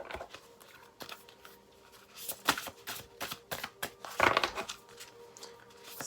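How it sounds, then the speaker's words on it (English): A deck of cards is shuffled close up on a hard surface in a quiet room, giving a series of crisp riffling bursts and soft taps. "I know it's loud to shuffle on there"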